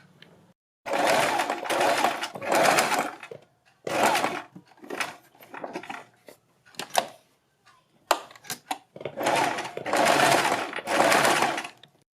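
A sewing machine runs in repeated bursts of close, loud stitching with short pauses between, as a rough tacking seam goes along the neck strips of a suit or kurti.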